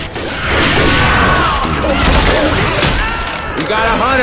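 Gunfire rattles in a Left 4 Dead 2 versus match on the Dark Carnival map, loud crashing shots and bangs mixed with excited shouting voices, dense and close throughout.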